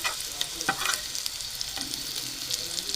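Stuffed bitter gourds frying in a pan, an even sizzle broken by a few sharp clicks and scrapes of turning, no speech.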